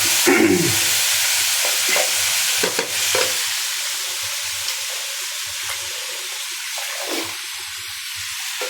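Cabbage hits a hot frying pan with shrimp, setting off a loud, steady sizzle with a few scraping stirs early on, close and continuous.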